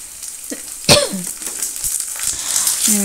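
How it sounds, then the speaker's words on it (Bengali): Potatoes and aubergines tipped into a pan of frying onions and green chillies: a sharp clatter and burst of sizzling, then steady loud crackling of frying oil with stirring scrapes and a brief throat-clearing. "সেই পেঁয়াজ লঙ্কাগুলো ভাজা ভাজা হয়ে এলে আমি এবার আলু বেগুনগুলো দিয়ে দিচ্ছি"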